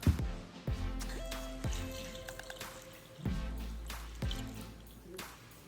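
Cold milk is poured into a bowl for strawberry banana pudding, with close drips and splashes, a few distinct pours and bumps, and short pauses between them.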